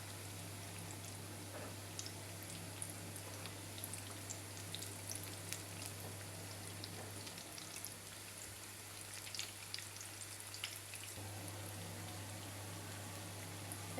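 Taş kadayıf dessert frying in a pan, a soft, steady sizzle and faint crackle under a constant low hum, quiet and continuous throughout.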